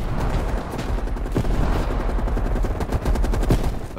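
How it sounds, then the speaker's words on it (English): Gunfire in a video game battle: dense, loud rapid bursts of shots and machine-gun fire rattle continuously and close, layered over a rumbling background of combat with no voices. "At the fork, you followed the road right toward the sound of gunfire."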